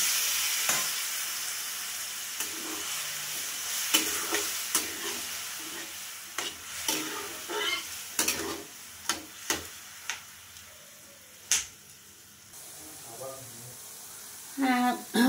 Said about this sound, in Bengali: দেখো মশলা কষে গেছে, এবার আমি আলুটা সেদ্ধ হওয়ার মতো অল্প জল দিলাম।